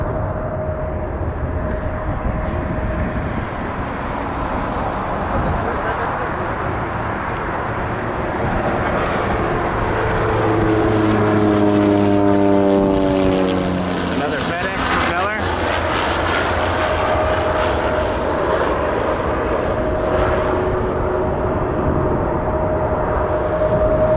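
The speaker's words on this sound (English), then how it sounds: "We do have an incoming flight here." An incoming airliner flies overhead on approach to Toronto Pearson airport, its engine roar swelling loud and near mid-clip with a falling pitch as it passes, over steady background noise and distant talk.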